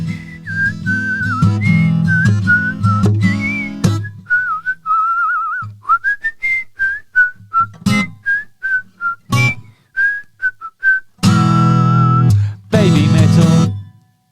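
Whistling carries a melodic tune in clear sustained and short tones, with bursts of acoustic guitar strumming loud and close between and around the whistled phrases.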